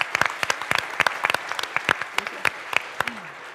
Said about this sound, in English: So round of applause for Karen once more.